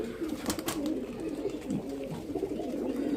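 A male champion pigeon held at a rooftop loft coos softly and repeatedly, close by, over a low murmur of background noise with no speech.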